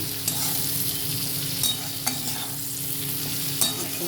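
Sliced okra fries slowly in oil in a pan with a continuous, even sizzle. A few sharp clicks from stirring land near the start, middle and end, with no one talking.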